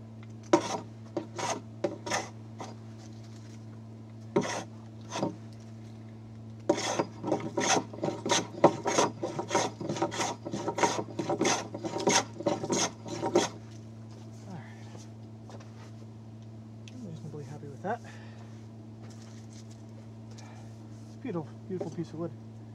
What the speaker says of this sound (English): I'm scrubbing right down to the saw kerf and maybe just a hair below